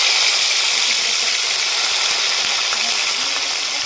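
Bay leaf and chopped tomato sizzle steadily in hot oil for a vegetarian cauliflower curry, a loud, continuous bright frying hiss with no pauses and no talk over it.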